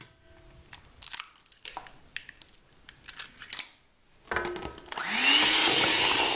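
Electric mixer blending an egg into chocolate chunk monster cookie batter: clattering handling and bowl taps first, then after a short pause the motor whirs up loud and steady to the end.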